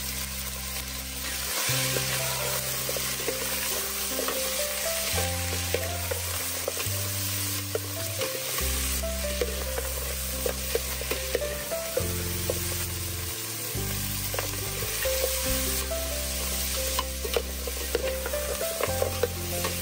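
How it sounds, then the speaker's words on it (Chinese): Pork ribs stir-frying in homemade lard in a hot iron wok, a constant loud sizzle with quick scraping strokes, under a steady background music track. "往烧热的铁锅中放入自制的猪油，接着把已经切好的排骨往锅里倒"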